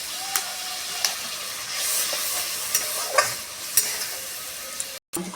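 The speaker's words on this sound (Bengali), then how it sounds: "একটু নাড়াচাড়া করে নেবো ভালো করে" Mustard paste is stirred in a pan for rohu fish curry, with scraping spoon strokes at an irregular pace over a soft steady sizzle, close and fairly quiet.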